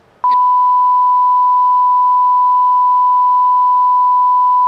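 A steady, loud electronic beep tone starts abruptly and holds unbroken for several seconds, the classic censor bleep.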